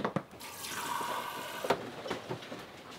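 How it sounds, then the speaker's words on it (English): Water is trickled by hand over bread dough before baking aboard a sailing boat at sea, with soft splashes and drips rising into a brief faint pour, quiet and close. "Put a little water on top."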